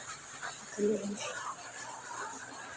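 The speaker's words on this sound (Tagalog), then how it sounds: "Yung aso. Ano yan? Aso oh." A dog gives a brief whine or pant in the middle, heard faintly under people talking in the background.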